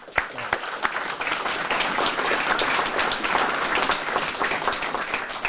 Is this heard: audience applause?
yes